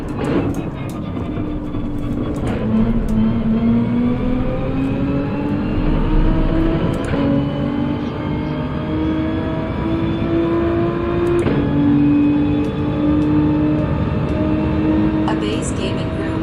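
Gran Turismo 7 racing-game car engines droning loud and continuous, with pitch rising and shifting as the cars accelerate through gears, plus occasional sharp clicks on top.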